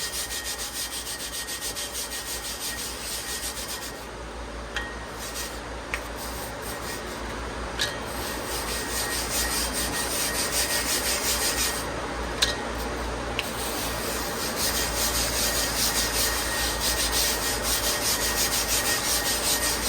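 Lister large-animal shearing blades being sharpened on a grit-coated plate, a steady continuous rasping grind throughout with a few faint clicks, close and even in level, with no talking.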